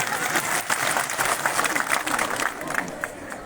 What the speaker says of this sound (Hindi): ताली बजी 4 आदमी।